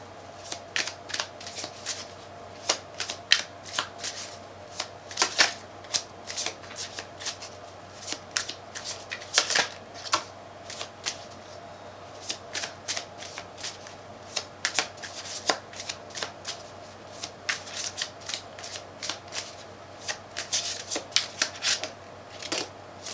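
Tarot cards being shuffled by hand, a long run of quick riffling and slapping flicks close up, irregular bursts repeating over a faint steady hum.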